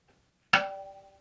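A single sharp, bright drum stroke rings out alone after a brief silence, with a clear high-pitched tone that fades over about a second.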